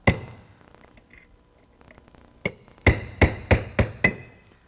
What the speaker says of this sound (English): Take a punch and a hammer.